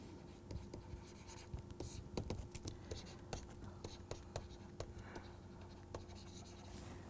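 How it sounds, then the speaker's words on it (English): A marker or pen writing on a board during a maths lesson on triangles, a light scratchy run of short strokes and taps under a low hum, with quiet speech over it. "So maybe let me write this down."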